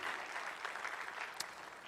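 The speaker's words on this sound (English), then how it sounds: "can all of our graduates give your parents a loud applause for their commitment and service to you?" Faint, distant applause from the audience at an eighth-grade graduation ceremony as graduates clap for their parents, a soft steady patter with one brief sharper clap.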